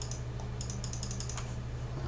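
Quiet tapping on a computer keyboard while entering a command in a note-taking app, a quick run of about a dozen light key clicks over a low steady hum.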